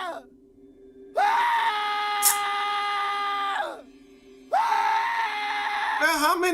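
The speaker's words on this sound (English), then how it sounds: "How many screams we gotta hear?" Two long, loud screams from a played clip, each held for several seconds with a short gap between, close and harsh, with a quieter voice before and a brief vocal burst after.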